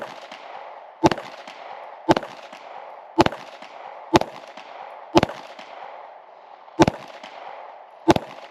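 Single gunshots from a rifle fired one at a time at the range, loud, sharp cracks spaced about a second apart with short echoing tails and no talking.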